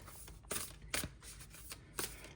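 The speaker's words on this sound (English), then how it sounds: "I'm going to be shuffling a little more gently than usual" Tarot cards shuffled gently by hand, a few soft riffling bursts in quick irregular rhythm, close and quiet with no talking.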